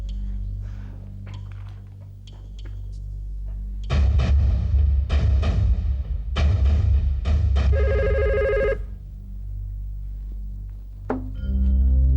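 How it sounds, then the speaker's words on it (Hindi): A telephone rings loud and close in several insistent bursts over a low background hum, with a brief electronic tone in between and quieter noise afterward. "समीर का फोन"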